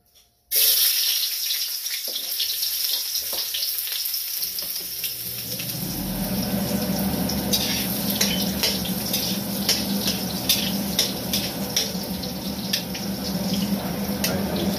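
Garlic and ginger sizzling in hot coconut and olive oil in a pan for goat adobo, a steady bright crackle that begins abruptly after a brief silence and holds fairly loud and even throughout, with no talking.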